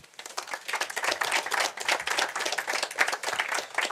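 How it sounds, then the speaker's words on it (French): Audience applause for a presenter at a French Tech Day 2021 pitch contest, a lively close burst of many hands clapping, uneven and crackling throughout. "Sous vos applaudissements, évidemment."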